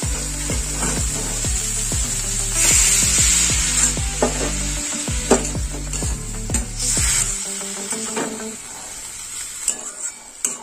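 Eggplant pieces fry in a hot pan with onion flower curry, a steady sizzle under rhythmic scraping and stirring of a spatula against the pan, close and loud, quieting toward the end.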